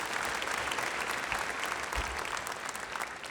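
A church congregation offers dense, sustained applause to God, a steady wash of many hands clapping that fills the room without a break.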